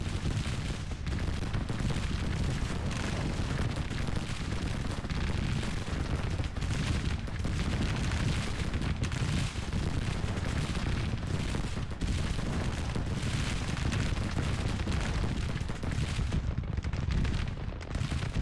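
Civil War cannon and artillery fire rumble through a Grand Tactician battle as a dense, unbroken roar of distant booms and musketry layered over one another, with no pauses.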